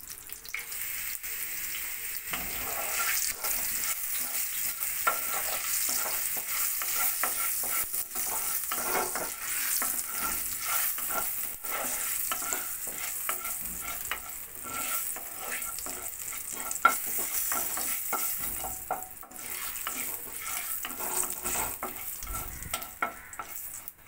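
Panch phoron spices frying and sizzling in hot oil in a home kitchen while cooking winter vegetables with Malabar spinach, a steady close crackle with stirring clatter and a faint running tap, no talking.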